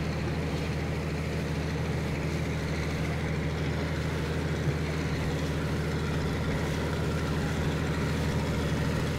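A steady, low engine rumble from a passing local ferry drones on without letup, a heavy motor running close by at an even pitch for the whole stretch.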